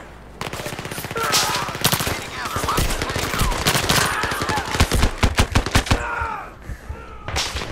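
Gunfire in the VR shooter Zero Caliber during a co-op mission, loud rapid automatic bursts and single shots crackling in quick succession, with a brief pause before a final burst.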